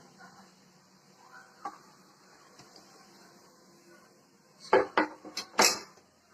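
Cooked tavala adai, a crisp rice-and-lentil pancake, is lifted off the pan onto a plate, giving a quick cluster of clattering, scraping clinks near the end after a quiet stretch.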